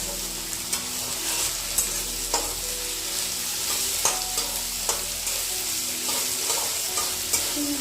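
Eggplant and hilsa fry in a pan with a steady sizzle. A utensil scrapes and stirs in repeated short strokes, close and alone with no talk.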